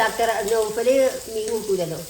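Fish sizzles steadily in a hot frying pan at home, a continuous crackle close by, with faint voice-like tones over it.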